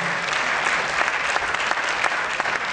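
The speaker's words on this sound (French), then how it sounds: "vous pouvez les applaudir très très fort s'il vous plaît" Loud, steady applause from a crowd at a regional sports and leisure integration awards ceremony, many hands clapping densely without pause.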